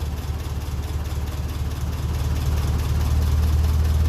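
Steady idling engine running while charging its battery, a continuous low, even rumble with a regular throb that grows slightly louder toward the end, heard alone and close.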